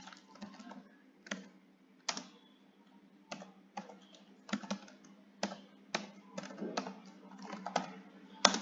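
Irregular clacking of keys on a computer keyboard, bursts of quick taps separated by short pauses, close and fairly quiet over a low hum.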